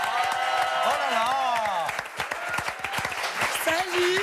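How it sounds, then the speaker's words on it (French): Studio audience applause on a French television show runs as a crackling patter beneath lively voices, with people talking and exclaiming over the clapping throughout. "on peut l'applaudir"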